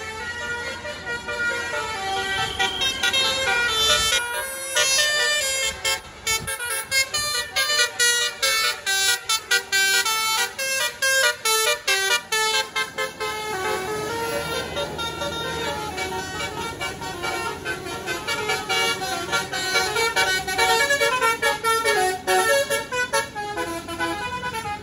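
Tour buses on the Pangandaran road blast their telolet horns in loud, repeated melodic bursts over rumbling engines, one bus after another passing close by.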